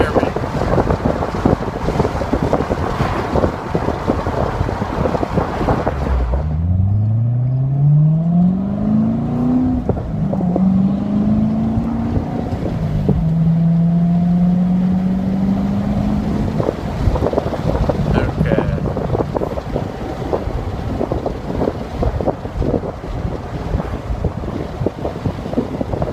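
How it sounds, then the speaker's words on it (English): Wind buffets loudly and steadily in the open cabin of a topless C7 Corvette cruising at about 60 mph, with engine drone rising and settling underneath, and a voice talks briefly over the noise. "I'm going about 60 now, and the wind's a little worse."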